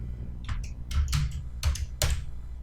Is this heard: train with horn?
no